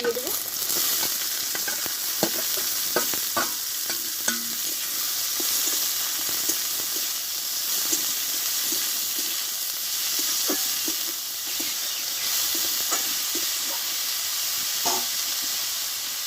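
Chopped cabbage frying in hot oil with chili and ginger, a continuous soft sizzle with scattered scraping stirs of a spatula against the pan, close but moderately quiet.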